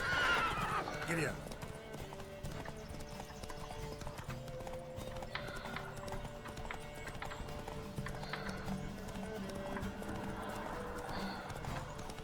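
Rhythmic hoofbeats of a galloping horse in a horse race in The Witcher 3: Wild Hunt, with a whinny near the start, under game music and a voice speaking.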